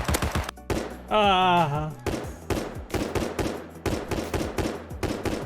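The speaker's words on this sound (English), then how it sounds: "of all the gun changes, this is the least bad noise. But SMG sounds more threatening than Tommy" SMG gunfire in the survival game Rust: rapid, evenly spaced volleys of loud, punchy shots repeat across the whole stretch, with one short spoken word breaking in near the start.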